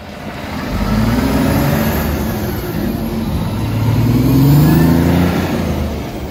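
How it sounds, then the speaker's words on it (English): A semi truck engine fitted with a T6 S400 variable-geometry turbo revs and builds boost. A loud, close, low engine roar rises and falls twice, with a faint high turbo whine above it. "It spools up like a stock turbo, but it gives you a much larger top end."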